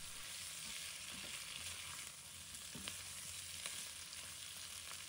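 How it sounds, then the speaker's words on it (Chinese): Potatoes and chicken gizzards stir-fried together in a wok, a steady loud sizzle throughout with scattered scraping and tossing sounds from stirring, no voices. "接着把先前炒好备用的土豆倒入锅中，再次翻炒均匀"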